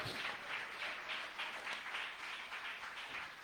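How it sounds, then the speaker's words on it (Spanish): Church congregation applauding together during a Sunday morning service, a steady sustained wash of clapping with pulsing swells that carries on evenly with no voices over it. "¿Alguien puede darle un aplauso al Rey de la Gloria en esta mañana?"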